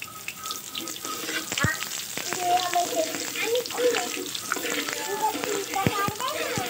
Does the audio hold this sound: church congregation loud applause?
no